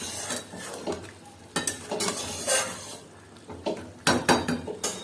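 Boiled mixed vegetables are stirred in a pot with a spoon, giving a few distinct scraping and clinking bursts over a low simmering background, with no talking.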